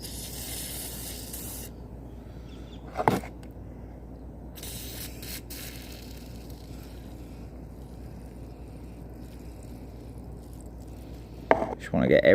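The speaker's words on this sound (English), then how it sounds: "I'm just going to spray it in every little air passage." Two short bursts of WD-40 aerosol spray hiss into carburetor air passages, one early and one near the end, with quiet background hum in between.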